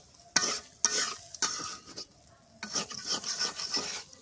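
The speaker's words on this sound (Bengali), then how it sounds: "দিয়া পরে আবার ভাজা ভাজা করে নিই, নাইলে এটা কাঁচা কাঁচা গন্ধ করবো" Bottle gourd greens fry in a pan while a spatula scrapes and stirs in several quick, close strokes, with a soft sizzle running underneath and a longer stretch of stirring near the end.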